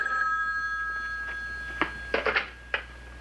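An old-fashioned telephone bell rings in a room, a bright sustained trill at the start, then short clipped bursts as a few quick, uneven rings cut in and out near the listener.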